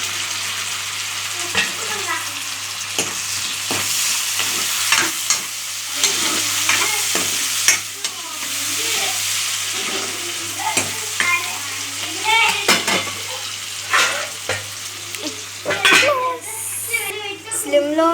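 Tomatoes sizzle and fry in a pan while being stirred, with repeated scraping and clinking of a utensil against the pan and a voice talking over it throughout.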